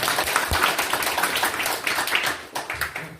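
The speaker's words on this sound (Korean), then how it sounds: "박수 한번 부탁드립니다." A room of attendees at a victims' briefing session claps in a ragged, continuous round of applause, moderately loud with uneven bursts of hands, and no talking over it.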